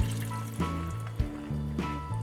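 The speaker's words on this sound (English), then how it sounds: "Now I'm just gonna add another cup of water," A cup of water pours into a cooking pot of Trinidadian pigtail pelau on low heat, a close, steady filling sound with a few gurgling surges.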